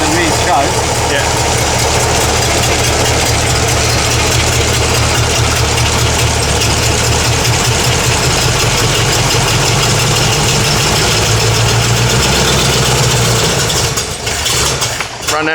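Supercharged Y-block V8 idling in a 1932 Ford roadster, a loud, close, lumpy idle with a steady low rumble that runs throughout and falters near the end, with people talking over it.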